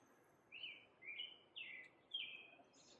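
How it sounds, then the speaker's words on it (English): Birds sing outdoors during a Sunday service: four short, bright chirping phrases in a steady rhythm, faint and at some distance, with no talk over them. "Listen to those beautiful birds as they sing that song."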